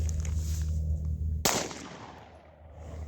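One loud gunshot from a Combat Armory CA19 rifle fired at a paper target about 10 yards away, a sharp crack with a brief ringing tail, heard alone over a steady low background hum.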